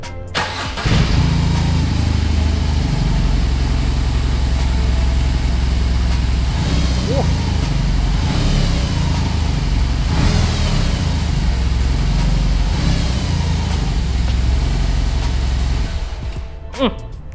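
A BMW R18 boxer motorcycle engine starts with a crank and settles into a loud, rumbling idle, revved several times in surges before cutting off near the end.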